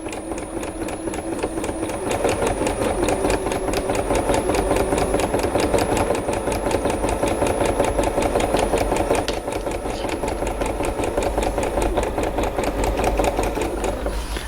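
Sewing machine stitching a seam on a fabric face mask, a rapid, steady mechanical chatter close by, starting slower then running at an even fast pace with a brief dip midway.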